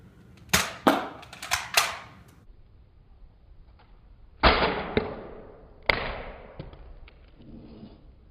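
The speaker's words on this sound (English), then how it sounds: "Now we're going to shoot the egg from a farther distance." Gunshots fired at an egg from a longer distance, heard as a quick burst of four or five sharp cracks followed by two separate louder reports with ringing decay, alone without talk.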